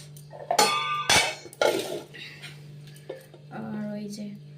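Rice and bottle-gourd dal being served onto a plate, several close clinks and scrapes of a spoon against dishes, with a steady low hum and someone speaking throughout.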